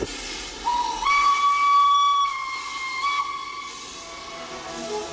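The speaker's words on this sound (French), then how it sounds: "cette puissance qui se dégage de la locomotive à vapeur avec la vapeur et le métal puissant qui chauffe" A steam locomotive lets out a long, steady whistle over a continuous hiss of escaping steam, loud and close, briefly dropping then sounding again before the hiss carries on alone.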